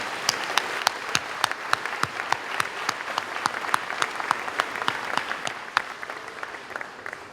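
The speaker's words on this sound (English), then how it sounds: "I want you to give them a round of applause," A high school graduation ceremony audience applauds steadily: many hands clapping in a dense, even patter that stays fairly distant and moderately loud for several seconds, without cheering.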